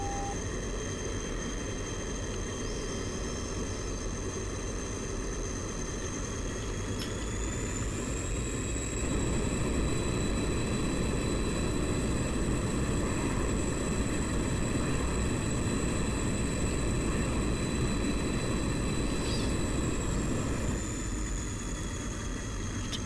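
A MiG-21bis jet roars continuously in a flight simulator game, a steady engine drone with a high whine that shifts pitch partway through, with no talk.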